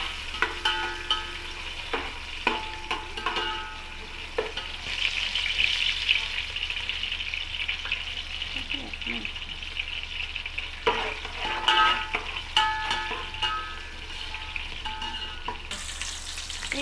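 Onions and green chillies frying in a pan for mutton biryani, giving a steady close sizzle with intermittent stirring scrapes and clatters, no voices.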